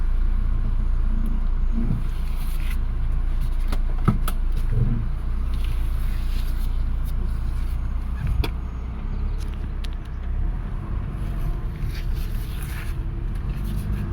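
A 2005 Subaru Impreza driving off, with steady loud engine and road rumble throughout, a low drone inside the cabin with a few scattered clicks and no talk.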